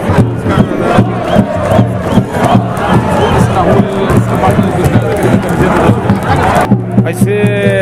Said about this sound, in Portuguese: A torcida do Flamengo canta lá do outro lado, mas a torcida do Braga também canta aqui, ó.